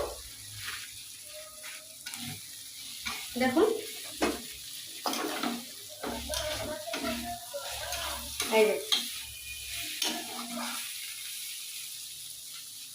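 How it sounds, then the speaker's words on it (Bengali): Oil sizzles steadily as lentil dumplings fry, with stirring scrapes and clinks in a pan while a voice talks intermittently over it. "উচ্ছে ভাজাটা পরে এই যে বড়ি ভাজবো"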